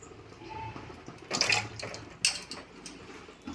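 Tap water runs over cooking utensils in a home kitchen sink, with a steady low rush broken by two louder splashing clatters as dishes are rinsed, close and without speech.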